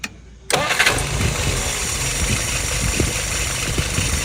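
A YS 950S model aircraft engine on a test stand fires up after a short quiet moment, then settles into a loud, steady, buzzing run with constant vibration.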